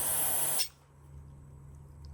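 Carburetor cleaner sprayed through the main jet of a Craftsman M270 carburetor, a loud close hiss lasting about half a second before cutting off to quiet.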